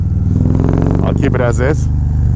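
Harley-Davidson Road Glide motorcycle with a Feuling 465 cam under way, its loud, low, steady engine rumble continuing throughout while someone speaks briefly over it.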